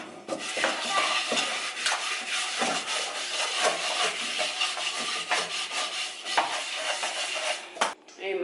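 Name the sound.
washing out a frying pan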